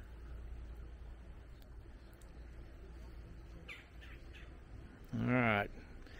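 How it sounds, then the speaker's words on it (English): Geese near water give a single loud, harsh honk near the end, after a few faint distant calls over quiet outdoor background with low rumble. "I shouldn't scare the little poor little duckies, geese, whatever they are."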